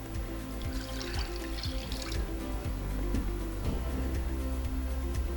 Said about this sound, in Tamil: ஒரு 1/4 லிட்டர் தண்ணியும் சேர்த்து விட்டுருக்கேன்